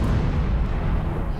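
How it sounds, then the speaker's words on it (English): A grenade goes off in a Christmas horror shooter game, a dense, sustained low rumbling boom that fills the whole moment at steady loudness with no voices over it. "you just throw a grenade and see what happens"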